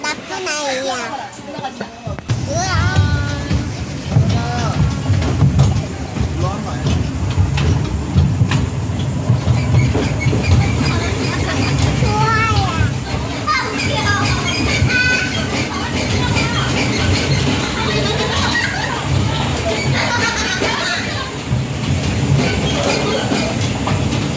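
Larva-themed kiddie train ride at a children's play park, a steady rolling rumble with rail clatter running throughout, with children's voices and adult talk over it.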